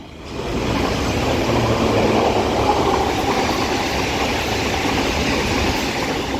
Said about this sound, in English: Now passing through is going to be another London Underground Metropolitan Line S8 stock